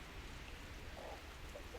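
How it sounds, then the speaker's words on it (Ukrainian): Soft, steady rain hisses faintly and evenly in the background at a pigeon loft, with no voices. "Подивіться, який дощ."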